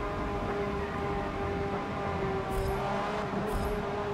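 A racing car engine in the video game Forza Motorsport 7 drones steadily with a sustained high-pitched gear whine running over it, continuous and fairly loud throughout.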